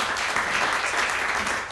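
A small audience claps at the end of a WCF RESTful services user group presentation, a short steady burst of applause.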